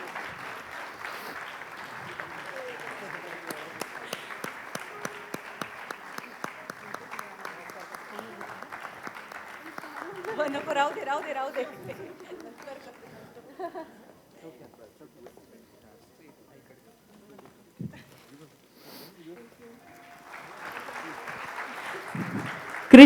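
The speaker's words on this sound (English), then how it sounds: "let's give a big round of applause to all these people who are making their way onto the stage" Concert audience applauds as performers walk onto the stage, clapping rising and thinning over several seconds before a quieter gap and a fresh round near the end, with voices speaking at points.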